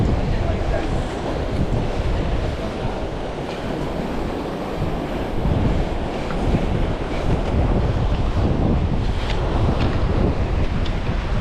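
Large ocean waves break and surge at a rocky fishing spot. The roar is heavy and continuous and swells in repeated crashes, with wind buffeting the microphone.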